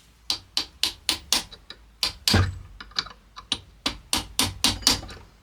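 A series of sharp hammer taps on metal while fitting a pinion gear and circlip on a mill, roughly two per second with a brief pause in the middle, close and crisp.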